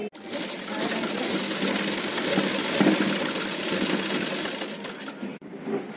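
A sewing machine stitches lining to main cloth for a frock, running continuously at a steady whirring hum for about five seconds, then stopping with a brief click before a short quieter tail.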